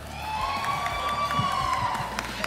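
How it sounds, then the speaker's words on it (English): A crowd cheers and applauds steadily at a live esports interview event, with a continuous roar of clapping and shouts plus a faint whistle-like tone running through it. "Give him a round of applause."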